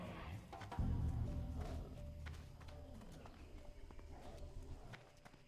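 Hoofed Tauren footsteps in World of Warcraft patter in a quick, soft clip-clop rhythm, fairly faint under a low ambient bed, with a heavier thump near the start.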